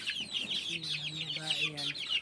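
Gamefarm chickens, young cockerels with a couple of hens among them, cluck and murmur nearby in a busy overlapping chorus, with one low drawn-out call in the middle.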